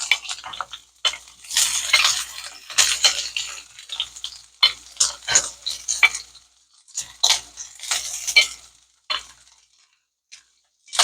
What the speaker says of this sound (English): everything is going to go into the pan to saute